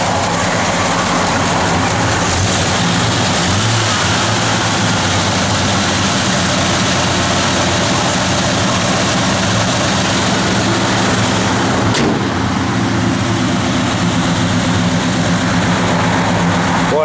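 A 1972 Ford Gran Torino Sport engine idles loudly and steadily nearby with a low, even rumble, interrupted by a single brief click near the end.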